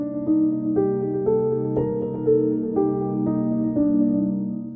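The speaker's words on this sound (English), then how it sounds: "Go up a 5th from there and play your Hirajoshi scale" Melodic line in the Hirajoshi scale played over a sustained minor 7 chord, with single notes entering about every half second on top of the held harmony, steady and clear with no talking.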